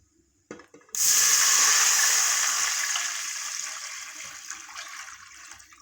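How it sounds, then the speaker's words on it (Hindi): Water gushes into a cooking pot while rajma chawal, red kidney beans with white rice, is being cooked. It starts suddenly with a strong, splashy pour after a few small clunks, then gradually softens over several seconds. "अब इसमें बीच हम पानी ऐड कर देंगे।"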